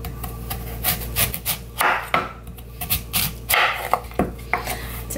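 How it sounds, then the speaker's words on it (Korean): A knife slicing radish into thin squares on a cutting board, a run of irregular close chopping knocks and scraping strokes in a quiet kitchen. "무는요 조금 나박나박하게 썰면 되거든요."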